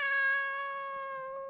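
A single drawn-out cat meow, clear and close, with a strong steady tone that fades gently over about a second and a half; no other sounds.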